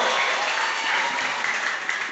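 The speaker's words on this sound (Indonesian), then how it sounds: "Tepuk tangan untuk Dasar Wisma 7" Dense audience applause at a village anniversary celebration in Kampung Lenganeng, cheering an award-winning women's group, steady and loud for the whole short stretch with no voices rising above it.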